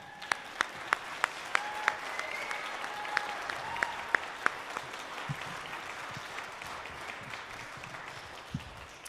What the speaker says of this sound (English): can you give them a hand clap one more time?